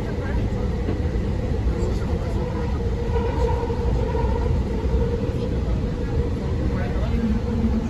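A train rides the rails between JFK airport and Jamaica station in New York, giving a loud, continuous rumble and rattle that stays even throughout.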